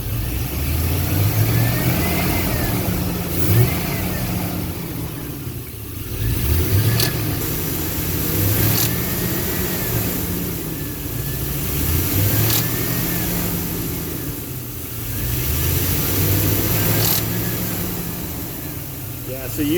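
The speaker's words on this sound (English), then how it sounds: "so I can rev the engine from the front end." A Chevy Silverado engine, revved by hand through the throttle cable from the front of the truck, surges up and settles back several times in repeated cycles over a steady idle, with someone talking throughout.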